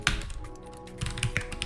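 Quick taps on a computer keyboard during a Linux terminal session, a short cluster of close clicky keystrokes with a brief pause in the middle.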